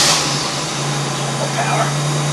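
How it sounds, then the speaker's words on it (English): The engine of a 2001 Buick Park Avenue runs at a low, steady idle, heard up close with a constant hum and a faint hiss over it. "I'm actually going to start the car."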